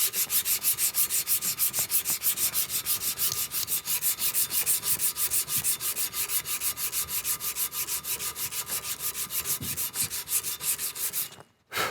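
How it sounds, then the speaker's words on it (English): Rusty gun metal from an old Winchester is hand-sanded with 120 grit abrasive, a loud, rapid, even back-and-forth rasping that runs steadily before stopping abruptly at the end. "Now I'm going to go back to 120 grit."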